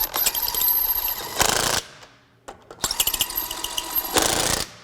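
A Craftsman V20 brushless 1/2-inch impact wrench set to its lowest level tightens bolts in two loud bursts of rapid rattling hammering, each ending in a brief harsher surge, separated by a short pause.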